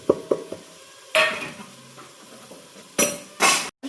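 Biryani ingredients with salt and coriander being stirred and sautéed in a pan at home, a few scraping clinks of a spoon on metal followed by louder bursts of stirring and sizzle, close and without talk.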